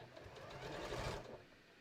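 A sewing machine runs in one short continuous burst, stitching the seam of a pair of shorts, with an even mechanical whir that rises slightly and then eases off, quiet and close.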